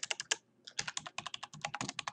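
Quick, close keystrokes on a computer keyboard as a password is entered: a short burst of crisp clicks, a brief pause, then a steady run of rhythmic taps.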